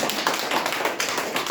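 Audience applause at a Korean talk or seminar event, a dense, steady wash of many hands clapping close and loud throughout with no pauses and no voices.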